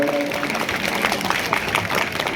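Students clap in welcome at a commemorative death-anniversary program, a dense, steady patter of many hands that continues for a couple of seconds with faint voices mixed in.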